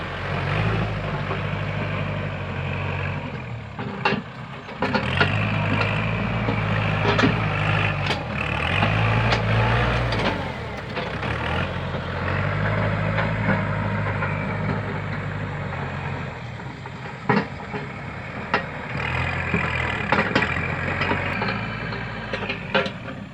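A heavy diesel tractor engine rumbles steadily while clearing a road at a rice truck rollover, revving and labouring in waves with occasional clanks, loud and close throughout.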